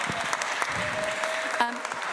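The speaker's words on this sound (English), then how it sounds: "so a round of applause just for making it" Audience applause at a children's choir Christmas concert, a steady wash of clapping from families in a hall, with a brief voice or tone rising over it near the end.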